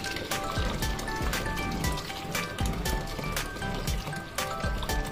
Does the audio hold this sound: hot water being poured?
yes